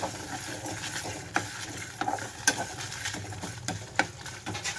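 A spoon stirs dry red chilies through a bitter gourd fry in a hot pan, with a soft continuous sizzle and scattered scraping clicks and knocks, nearby, no voices.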